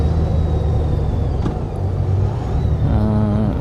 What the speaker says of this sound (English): Another car coming, so I won't go yet.